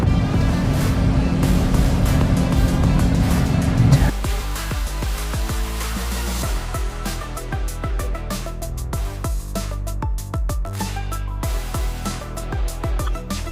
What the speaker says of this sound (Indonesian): Dan kita mulai cobain si VinFast VF3 ini.